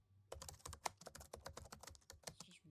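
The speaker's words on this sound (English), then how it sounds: "We have keyboard typing." Computer keyboard typing in the video game Spirit City: Lofi Sessions: a close, quick run of irregular clicky keystrokes, crisp and alone.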